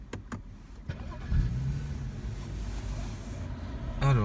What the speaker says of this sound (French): Bon, on va démarrer la voiture.